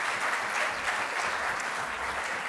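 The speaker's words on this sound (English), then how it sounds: "So everyone, big round of applause for Thomas." Audience at a 40 Under 40 awards ceremony applauding a regional winner: steady, dense clapping from a crowd, fairly even and moderately loud throughout.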